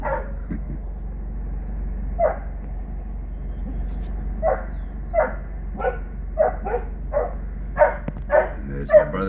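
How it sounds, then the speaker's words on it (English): Several dogs bark in short, spaced yips that grow more frequent as they approach a lodge on the Orange River, heard over a steady low vehicle engine hum. "There's his dogs coming."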